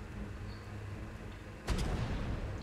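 A cannon firing a cannonball in the video game ARK lets out a single sudden boom midway, followed by a lingering rumble over a steady low background drone.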